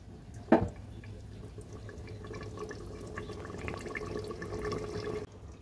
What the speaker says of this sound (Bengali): এবার ঢেকে দিয়ে একটু ফুটিয়ে নেব।